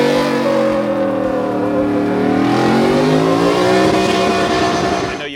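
Factory Five XTF pre-runner truck with a custom exhaust and 10-speed transmission revs hard, its engine note climbing and falling in loud, continuous throaty sweeps close by, with no talk over it.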